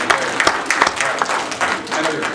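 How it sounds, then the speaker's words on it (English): Audience at a church gathering breaks into brief, scattered applause, moderately close, mixed with a voice talking over the clapping. "I know you're clapping for me, but that's okay."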